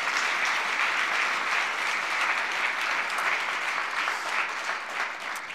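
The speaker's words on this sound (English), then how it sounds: "give him a round of applause." Sustained audience applause fills a hall at a Kevin Mitnick talk: dense, steady clapping from a large crowd that holds loud throughout and tapers only slightly at the end.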